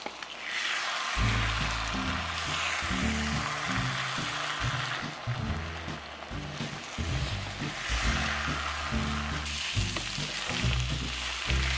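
Eggs frying in a pan over high heat, a loud continuous sizzle with rhythmic scraping and stirring strokes from a utensil, no talking.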